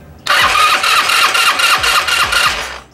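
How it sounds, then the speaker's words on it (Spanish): An Italika W-150 motorcycle's electric starter cranks steadily in a rapid, even rhythm for about two and a half seconds after a sudden start, loud and close, and the engine never catches. "Vamos a empezarle a dar marcha. Y es el único ruido que hace."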